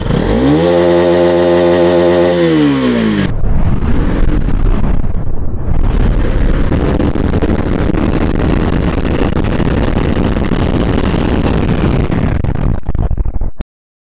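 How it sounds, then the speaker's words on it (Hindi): A Bajaj Pulsar NS200 BS4 motorcycle engine revs up through rising pitch, then roars loud and steady close by while riding, with strong wind rush, before cutting off abruptly. "तो गाड़ी की आवाज देखो, सुनो।"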